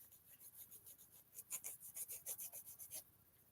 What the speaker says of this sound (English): As you can hear me filing my nails